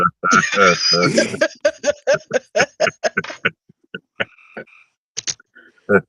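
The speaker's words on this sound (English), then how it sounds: "And the fucking frog." A frog croaks outdoors at night in a garden, a series of short rhythmic pulses that carry on after a burst of whispered talk, with a few sparse, distant croaks at the end.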